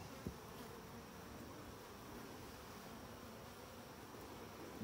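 A steady, low buzzing drone of many honey bees around a Layens hive, continuous and fairly faint, with no talking.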